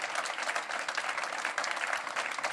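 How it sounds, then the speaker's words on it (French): An audience applauds after a keynote talk on the metaverse at a conference: a sustained, even burst of many hands clapping, full and continuous throughout with no talking. "je vous propose de faire une pluie d'applaudissements."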